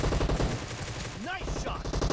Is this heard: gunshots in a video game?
yes